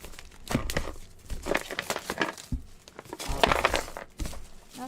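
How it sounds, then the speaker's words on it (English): Plastic shrink wrap being pulled and peeled off a Pokémon trading card box, with close, irregular crinkling and tearing bursts across several seconds and no talking. "Now to struggle to get the plastic off."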